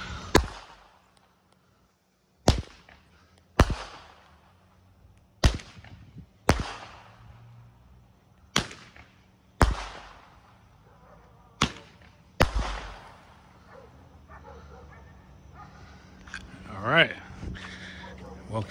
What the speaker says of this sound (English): Coast Guard Roman candle.